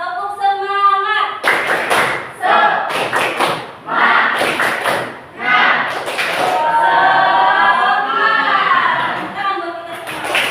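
A primary school class performs a rhythmic group clapping routine, bursts of sharp claps and thumps in patterned groups, mixed with children's chanting voices and a teacher talking at the start.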